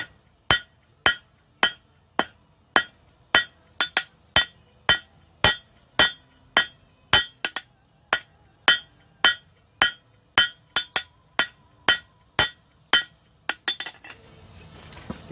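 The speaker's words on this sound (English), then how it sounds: "And we're going to start forging this out." Hammer blows ring out as a metal tine is forged into a mason jar mug handle, about two dozen sharp metallic strikes in a steady, even rhythm with bright clinking decay, followed by a faint rustle.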